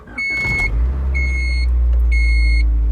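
A 1989 Honda Prelude engine starts up and settles into a steady, loud idle, with several repeated electronic beeps or chimes sounding over the running engine.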